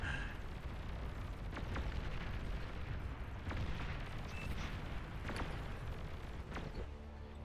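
A commander unit exploding in the Beyond All Reason strategy video game, a dense rumbling blast bed with several sharp booms and cracks of artillery spread across the clip, steady and fairly faint.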